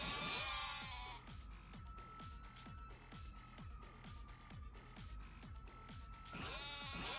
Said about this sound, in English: every time I see these goats